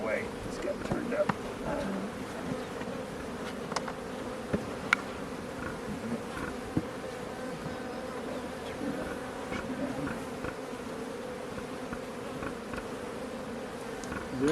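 A dense, steady hum of many honey bees buzzing close by at an open hive during an inspection, continuous throughout, with occasional faint knocks and clicks.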